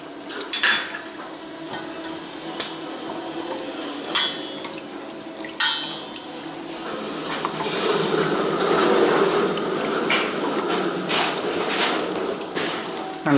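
Warm milk and yeast for pizza dough are stirred in a bowl with a utensil, starting with sharp clinks against the rim and moving into a continuous swishing, liquid churning sound.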